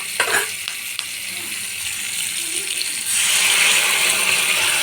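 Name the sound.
chili chicken sauce added to hot frying pan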